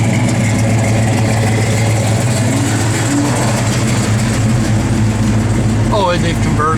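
A 1966 Chevrolet Chevelle SS engine idling, a loud, steady low rumble close by, with people talking over it.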